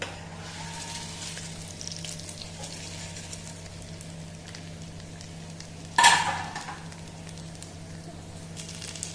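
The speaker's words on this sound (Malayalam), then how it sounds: "നമുക്കിനി ഈ വറവ് കറിയിലേക്ക് ഇട്ട് കൊടുക്കാം." Hot tempering with red chilli powder is tipped into a jackfruit curry; a low steady frying hiss suddenly bursts into a loud, close sizzle that quickly fades back down.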